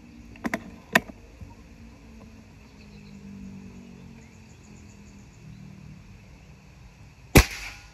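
An FX Maverick air rifle fires two sharp cracks close together early on, then quiet outdoor background with faint insects, and a single loud snap of the pellet hitting the target near the end.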